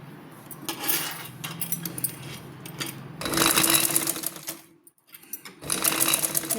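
A sewing machine runs in bursts, stitching through layers of lining and cloth for a blouse belt, its rapid close chatter pausing briefly before starting up again, with no talking.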